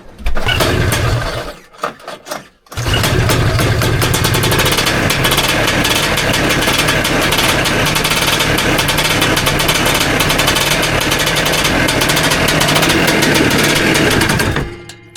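A Lotus Elan engine cranks briefly, pauses, then fires and runs loud and close at a steady rough idle before cutting out at the end.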